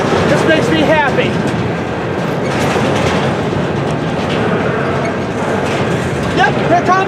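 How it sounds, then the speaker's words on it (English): NS 4055 leads a freight train over a level crossing, a steady close rumble of rolling cars and wheel clatter filling the whole stretch, with faint squealing tones drifting in and out. "Yep, it looks like the end of V07's coming. This train's in good order."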